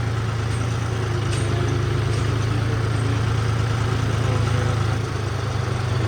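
Tractors lined up at a grain market at night, farmers having taken back their paddy, idle with a steady low engine rumble, several motors droning together at a moderate distance without pause.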